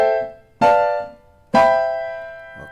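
Seventh chords played one after another up the diatonic scale, each struck firmly and left to ring and decay, with two full chords clearly heard and a third just starting at the end.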